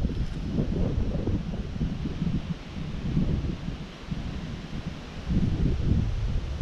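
Steady wind gusting across open parkland at Home Park near Hampton Court Palace, a broad low rumble with rustling that swells and eases in waves, heavy buffeting on the microphone, no talking.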